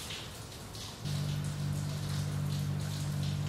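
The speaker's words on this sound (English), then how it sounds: "sorry if you guys hear outside, it is raining, been raining all morning" Steady rain patters outside, soft and continuous, with a low constant hum joining partway through.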